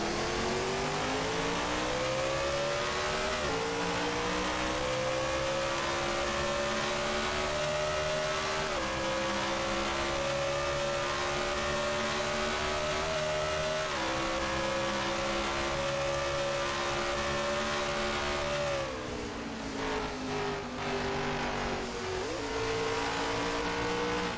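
Race car engines drone during an NSXCS qualifying session in Canada, heard from a front bumper camera as a steady high roar that rises through gear changes and dips briefly near the end.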